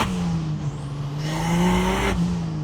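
A cheap turbocharged Jeep with a small two-inch wastegate dump pipe right underneath roars loudly from close by, its engine note droning steadily and then swelling under boost before settling back.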